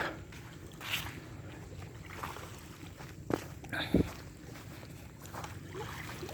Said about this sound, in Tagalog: yun ang dagat